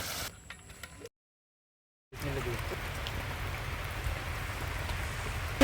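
Steady rain patters continuously after a brief quiet gap, a dense even hiss of drops falling on a surface nearby.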